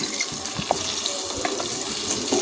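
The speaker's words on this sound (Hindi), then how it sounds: "अब मैं इसमें पानी डालूँगी।" Water pours steadily into a cooking pot of aloo mutton shorba, a close, continuous splashing and gurgling with small droplet plinks, without any talking.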